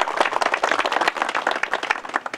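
An audience claps steadily and densely at a commemorative gathering for a military unit's anniversary, a close, even patter of many hands with no talk over it.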